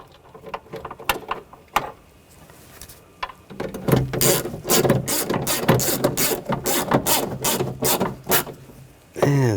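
A ratchet wrench snugs down nuts on the rear window regulator of a 2000-2006 BMW X5, with sparse clicks at first, then a dense run of rapid ratcheting strokes up close.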